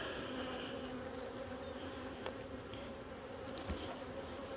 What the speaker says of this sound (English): there's bees up in here